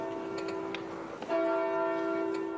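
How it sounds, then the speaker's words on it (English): One toll of a church bell rings out at a funeral in Cambridge. A fading earlier stroke is followed by a fresh, resonant strike that lingers steadily. "A bell tolled for each of his 76 years."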